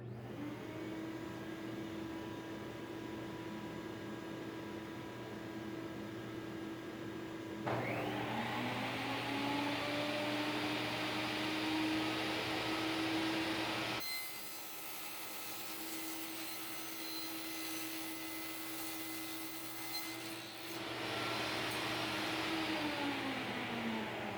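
A steady loud whine of a vacuum motor running throughout, changing pitch and level as a power saw cuts metal ceiling grid in and out.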